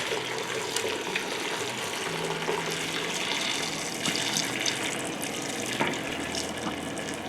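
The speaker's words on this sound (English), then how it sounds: "And I pour it into the strainer." Hot soup broth poured through a strainer into a heat-proof bowl, a continuous gushing splash with small spatters and drips, close and fairly steady, with no talking.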